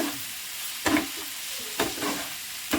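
Carrots being stirred in a hot pan on the stove, a soft continuous hiss broken by three or four distinct scraping strokes of a spoon against the pan at irregular intervals, close and moderately loud.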